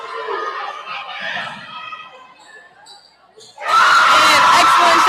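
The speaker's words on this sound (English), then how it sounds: "You can hear the cheers from the crowd." A crowd at a school basketball game murmurs under a commentator's voice, quiets briefly, then bursts into sudden loud cheering that carries to the end.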